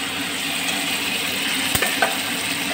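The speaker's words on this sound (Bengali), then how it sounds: "এবার আমি টক দইটা দিয়ে দেবো" Papaya curry sizzles steadily in the pan as a spoonful of whipped sour curd goes in, marked by a brief clunk and a soft splat over the continuous frying hiss.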